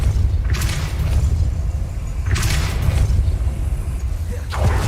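Spell effects from the video game Hogwarts Legacy, including Depulso, produce three deep booming thuds spaced about two seconds apart over a low rumbling background.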